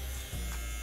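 Tattoo machine fitted with a 15-needle magnum grouping, used for solid black shading, gives a steady close electric buzz with a brief dip in the middle of a short burst.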